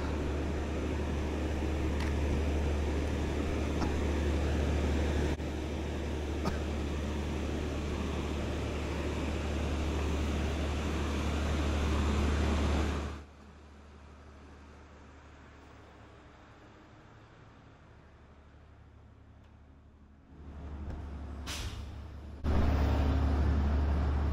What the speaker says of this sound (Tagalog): Maingay yung truck.